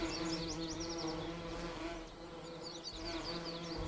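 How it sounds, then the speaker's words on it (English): Bees swarming around a hive in the Farming Simulator video game, a dense continuous insect buzz with overlapping wingbeat whines, steady and moderately close, with no talk. "do the bees start wandering off elsewhere because they have no place to store honey, so they leave the hive"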